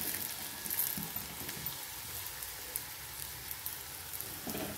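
Spices such as Kashmiri chili powder and kitchen king masala sauté in hot oil, giving a faint, steady crackling hiss with light stirring scrapes.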